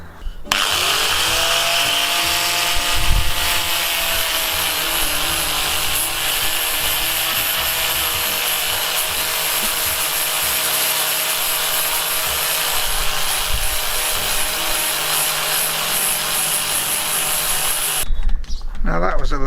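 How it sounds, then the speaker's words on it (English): An angle grinder fitted with a 120 grit flat sanding disc works the surface of an old wood plane during restoration, a loud steady high-pitched whine that spins up, runs continuously for about seventeen seconds, then cuts off. "I'm going to tickle it first of all with this 120 grit flat disc on an angle grinder"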